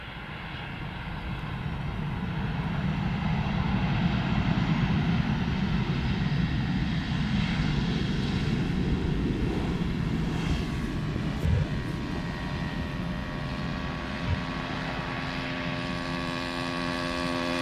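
Steady broadband roar of a plane at Amsterdam Schiphol Airport arriving on runway 18R, holding loud and even throughout with a low hum beneath and no talking.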